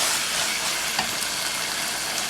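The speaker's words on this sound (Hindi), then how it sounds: "इसकी अच्छी तरह यहाँ पर हमने भुनाई करनी है" White chicken keema sizzles and fries in oil in a handi over high flame, a steady close hiss with no voices.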